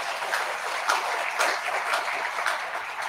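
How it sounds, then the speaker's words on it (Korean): An audience claps at a school family-day lecture, a dense, steady patter of applause from many hands that stays even throughout, with no voices over it. "그래서 하나님께 우리 박수 한번 쳐드리고 싶어요."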